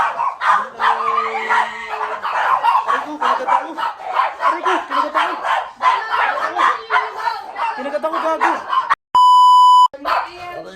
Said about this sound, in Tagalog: May bago pala kaming aso na hindi ako kilala.